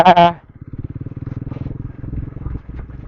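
A motorcycle engine chugs in a steady, rapid low pulse while riding a rough, scary road near Dharan, Nepal, close and loud, after a brief loud voice at the start.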